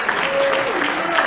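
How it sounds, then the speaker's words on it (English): A banquet crowd at a high school football dinner breaks into dense, sustained applause for the four team captains, with a voice briefly heard over the clapping. "Our 4 captains, would you mind standing up and can we clap for them?"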